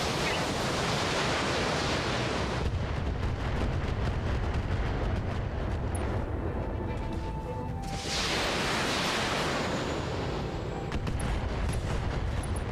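Mech weapons firing in the Battletech video game, a loud, continuous roaring wash of launches and blasts that holds through most of the span and dips briefly partway through before surging again.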